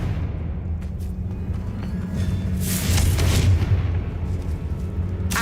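Confringo fire-blast spell explosions in Hogwarts Legacy, rumbling booms that swell into a heavier burst near the middle, set against a steady low game rumble.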